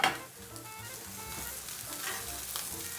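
A steak sizzles steadily in a hot pan, a close, continuous crackling hiss with small pops throughout, soft in level and uninterrupted by talk.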